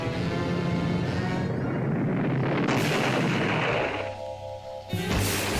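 A cartoon rocket blast from a Wile E. Coyote scene roars as a loud, sustained rumbling whoosh that drops away near the end and then returns briefly.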